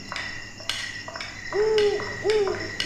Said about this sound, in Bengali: উপর দিকে তাকালাম, একটা সাদা পেঁচা উড়ে যাচ্ছে।